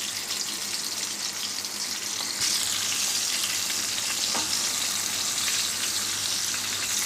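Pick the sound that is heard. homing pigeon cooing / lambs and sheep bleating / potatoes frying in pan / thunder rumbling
potatoes frying in pan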